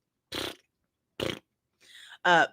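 Four short bursts of air from a prosthetic leg with a buzzy, flatulent quality, the last one louder with a rising tone, separated by silence.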